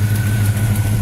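A 1997 Corvette LT1 V8 with custom headers and custom dual exhaust idles steadily, a deep loud even rumble close up with no talking.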